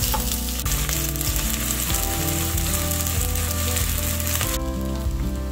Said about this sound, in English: I'm going to add my onions, and then I am just going to saute them up